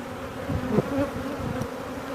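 Honey bees buzz around an open hive during an inspection, a close, steady droning hum with individual bees rising and fading in pitch as they pass.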